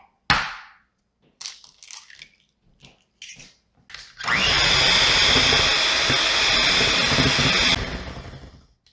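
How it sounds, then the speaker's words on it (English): An electric mixer starts up partway through, beating an egg into pound cake batter for marble pound cake, a steady close whirring drone after a few clinks and taps, then trailing off near the end. "we'll beat again for like about a minute or two until it's nice and fluffy"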